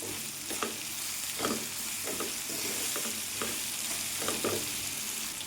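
Tomato pieces fry and sizzle in coconut oil for a tomato pickle, a steady close crackle broken by repeated scraping stirs of a spoon in the pan, with no voices.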